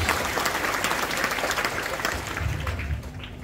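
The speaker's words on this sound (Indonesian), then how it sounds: "Beri tepuk tangan yang meriah." A church congregation claps loudly and steadily in a lively round of applause, with some low rumble beneath and the clapping thinning toward the end.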